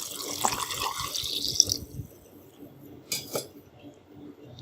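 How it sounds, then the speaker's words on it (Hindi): Water pours into a grinder jar holding peach and apple pieces, ginger and ice cubes, a splashing gush for about two seconds followed by a few clinks and a brief second splash. "2 ग्लास हम इसके अंदर डालेंगे पानी"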